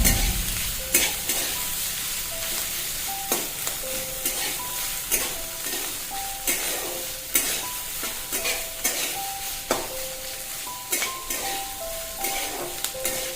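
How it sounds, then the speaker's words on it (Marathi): Chopped onion, garlic cloves and ginger fry in a pan, sizzling steadily while a spatula stirs and scrapes against the metal in repeated sharp strokes, close and loud throughout with no speech. "कांदा चांगला गोल्डन ब्राऊन कलर होईपर्यंत आपल्याला भाजून घ्यायचा आहे"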